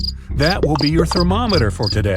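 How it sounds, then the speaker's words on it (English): Crickets chirp in quick, evenly spaced high pulses that keep going steadily under a person's narration throughout. "Have you heard the crickets chirp?"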